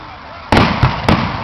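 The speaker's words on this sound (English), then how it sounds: "I've seen those at fireworks shows." Three sharp firework bursts go off at a backyard fireworks display, each loud broadband crack with a short decaying tail, spaced roughly a third to half second apart over a low ambient hum.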